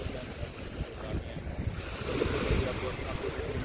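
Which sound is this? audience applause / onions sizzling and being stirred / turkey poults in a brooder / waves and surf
waves and surf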